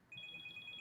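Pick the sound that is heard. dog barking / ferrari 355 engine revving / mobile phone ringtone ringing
mobile phone ringtone ringing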